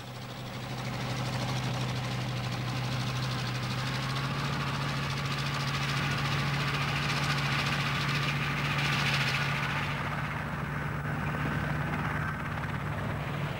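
Early aircraft engine running on the deck of a Royal Navy carrier, a steady, loud droning hum with a low tonal throb that holds for the whole stretch with no talking.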